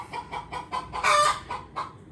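A hen cackles noisily after laying an egg in a chicken pen, a rhythmic run of about eight sharp clucks building to a louder squawk in the middle, close by with no talking.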